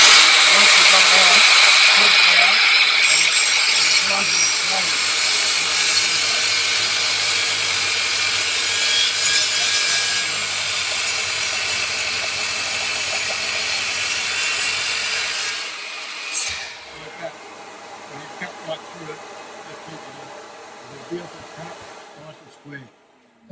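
A mitre saw cuts through timber with a loud, close whine that runs steadily for about fifteen seconds, then winds down, leaving a few knocks and handling sounds afterward.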